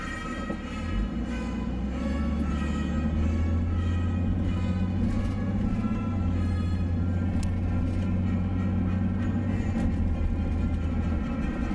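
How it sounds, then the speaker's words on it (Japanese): An electric train rumbles steadily past on an elevated track in Hamamatsu, Japan, at a moderate distance, a continuous low roar with faint rattling, no voices. "ここの辺りが今ちょうどその高架になってるんです。今電車走ってます。"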